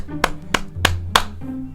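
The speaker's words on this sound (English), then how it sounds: "Let me give you a clap for that." Four sharp, evenly spaced hand claps from one person, close and loud, over a faint low background hum and with no talking.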